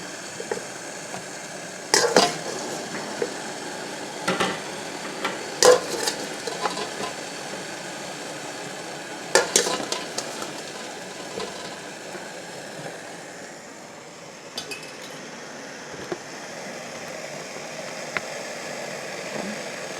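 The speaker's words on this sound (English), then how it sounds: "Our water has come up to a boil" Steady rushing, bubbling hiss of water at a rolling boil in a pot, with tomatoes added, a few sharp clinks and knocks now and then and no voices.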